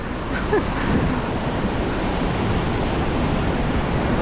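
Heavy rushing water at Ohiopyle Main Falls, a broad, constant roar of the river pouring over the falls with some wind buffeting the microphone, steady and unbroken throughout.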